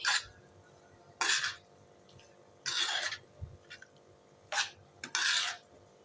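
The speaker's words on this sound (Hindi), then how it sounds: "इस तरह से आपने इसको मिक्स करना है" Ground spices mixed into vegetable pulao in a pot, heard as five bursts of rough raspy scraping, each lasting under a second and separated by quiet gaps with faint clinks and knocks, close up and with no talking.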